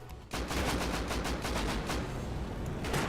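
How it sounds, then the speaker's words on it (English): A sentry gun firing during a large raid in the survival game Rust: rapid, continuous automatic fire, loud and sustained for the whole stretch with a steady rattling rhythm. "if you listen carefully, you can hear this sentry gun"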